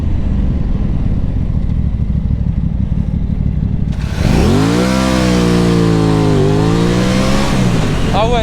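After a rumbling idle, a 2021 Aprilia RS660 sport motorcycle engine suddenly revs hard and accelerates, pitch climbing, then dropping and easing off as it brakes, close and loud.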